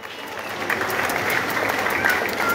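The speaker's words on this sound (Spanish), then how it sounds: "¡Fuerte los aplausos!" Crowd applause at a village dance festival in Olintla, greeting the Negritos dance group: dense, sustained clapping from many people, loud and continuous with a slight swell toward the end.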